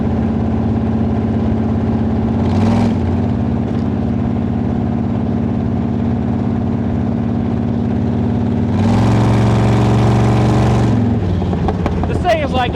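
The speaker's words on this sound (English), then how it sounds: "It's a V8 powered go-kart." V8 engine of a Speedway Motors T-bucket hot rod runs steadily at a loud, deep idle, with two short revving bursts, one brief and one longer, near the start and toward the end.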